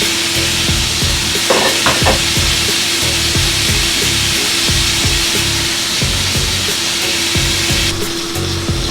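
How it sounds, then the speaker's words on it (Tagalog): Steak frying in a smoking-hot pan, a constant dense sizzle with faint scraping and clicking mixed in, loud and unbroken throughout. "i-drop na natin ang steak"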